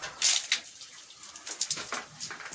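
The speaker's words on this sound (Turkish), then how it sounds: "Kanallara şu an su döküyoruz" Water poured by hand into the channels of Ytong aerated concrete reinforced panels on a building site, heard as close, splashy gushes in irregular bursts with no talking.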